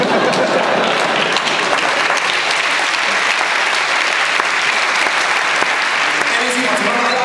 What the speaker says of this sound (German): Sie machen mal einen Applaus